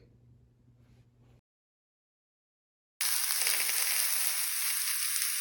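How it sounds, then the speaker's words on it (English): After a brief quiet gap, hot oil sizzles loudly and continuously in a pan, a bright crackling hiss. "wait till the oil starts simmering"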